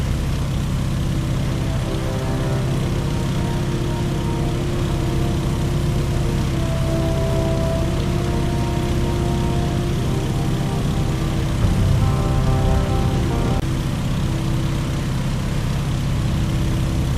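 A Stearman biplane engine in flight in Microsoft Flight: a steady, loud, droning radial engine and propeller hum with even harmonic tones, a slight shift in pitch near the end, no voices.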